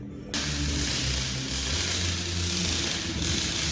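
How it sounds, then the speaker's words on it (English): Ring gear bolts on a 2021 DMAX front differential being tightened to 108 newton meters, a steady close mechanical whir and grinding that starts abruptly and runs on evenly. "we're going for 108 Newton meters on each one on the ring gear"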